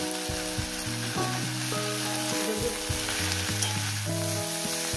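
Bathua greens and shrimp frying in a pan over medium gas heat, giving off a continuous even sizzle that runs the whole time beneath a steady melodic tonal backing.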